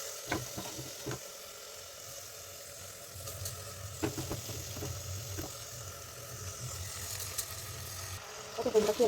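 Rice for tomato bath is stirred in a hot pan, soft sizzling with scraping spoon strokes and occasional clinks against the metal, fairly close and steady.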